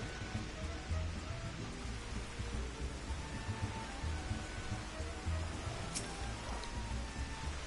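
Steady rain falling in the video game Final Fantasy XIV, a soft constant patter with a low rumble beneath it, moderately quiet and continuous throughout.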